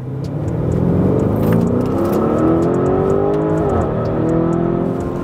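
A 2021 Lamborghini Urus pulls hard in its base Strada mode, its engine note climbing steadily in pitch as it accelerates. The sound is loud, close and continuous, with no talking.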